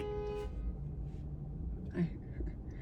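A car horn sounds near a red light, with a short honk early on and another brief toot a little later, under ongoing talk.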